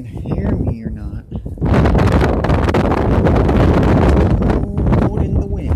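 Strong, cold wind buffets the microphone outdoors in a front yard, a steady broadband roar that surges loud after a quieter opening and persists throughout, with a voice speaking beneath it.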